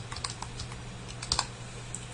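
Typing on a computer keyboard, a quick irregular run of light key clicks with a couple of louder taps, close up over a low steady hum.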